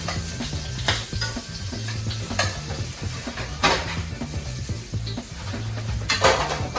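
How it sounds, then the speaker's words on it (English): Steady sizzling of bacon frying crisp in a pan, with occasional clinks and scrapes of a utensil, close and continuous. "bacon is getting crispy"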